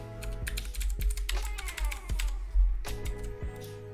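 Someone types a password on a computer keyboard: a rapid, close series of light plastic key clicks with a few heavier thumps, and no talking.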